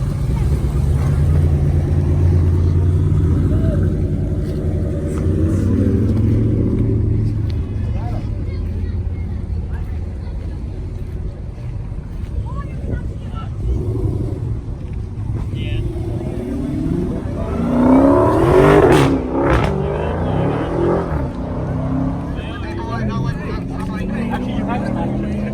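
Mopar cars pull out together from the 6th Annual Northeast Mopar Festival car show, a steady low engine rumble throughout, with a louder surge of revving passing close near the end, while people talk over it.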